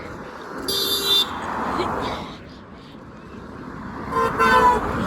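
Cars honking their horns on a road, two loud bursts of horn, one early and one near the end, over passing traffic with people talking.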